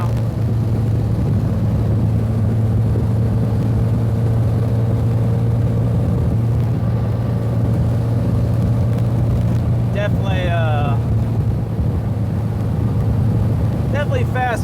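A 1956 oval-window VW Beetle drives along with a steady, loud engine drone and road rumble throughout, joined by a few faint squeaks near the end.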